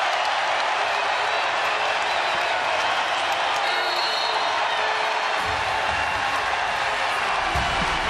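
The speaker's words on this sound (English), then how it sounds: "and now the crowd is back." A crowd in a basketball arena at an NC State women's game roars and claps in a continuous, fairly distant wash of cheering that swells near the end.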